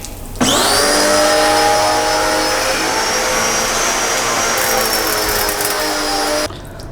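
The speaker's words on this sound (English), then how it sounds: "I have this washer that is not working." A pressure washer runs while a 600HP Mustang is being washed. It gives a loud, steady motorized whine that starts abruptly, holds for about six seconds and then cuts off, with no talking.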